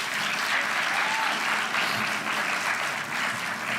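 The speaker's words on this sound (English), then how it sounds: "let us give them a round of applause." An audience at a school competition winners' announcement claps in sustained, even applause, dense and loud throughout without a break.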